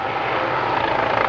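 An OH-6 observation helicopter's steady rotor and engine roar fills the air, loud and continuous, with no voices.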